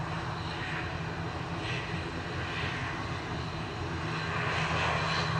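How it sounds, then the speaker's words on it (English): Engines of a 29-year-old Swiss Airbus A320 lined up at Manchester Airport, a steady loud broadband roar that holds constant and swells slightly toward the end, with no talk. "29-year-old A320 for Swiss lined up with the Star Alliance livery"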